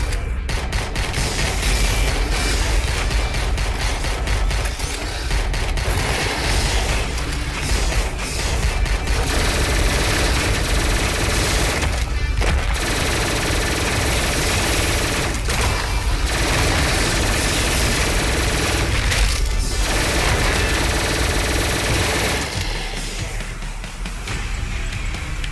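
Heavy gunfire in the action game Tesla vs Lovecraft on Switch, played on the second map: a dense, continuous fusillade of rapid shots and booms with hardly a pause, loud and without speech.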